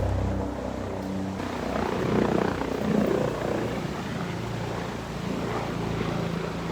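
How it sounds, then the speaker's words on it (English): A helicopter passes overhead outdoors on a still winter day, its steady rotor thump and engine whine holding at moderate loudness throughout, with no talking. "Why is there a helicopter flying over?"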